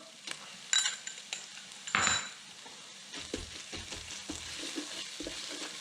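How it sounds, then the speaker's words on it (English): Garlic goes into a pan of frying onions for a Belgian carbonnade flamande, giving a close, steady sizzle broken by utensil clatter and scraping stirring strokes against the pan. "Now I'm going to add the garlic."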